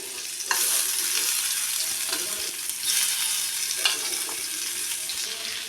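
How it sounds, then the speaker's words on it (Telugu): Paneer pieces drop one by one into hot oil and fry with a bright, steady sizzle, close up, marked by a few louder splutters as each piece goes in. "అందులో ఒక్కొక్కటిగా ఈ పన్నీర్ ముక్కల్ని వేసుకుందాం మనం"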